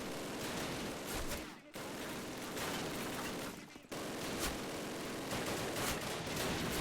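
Rapid gunfire in an older Call of Duty game, dense bursts of automatic and repeated shots. The firing runs almost continuously at close range, with two brief pauses.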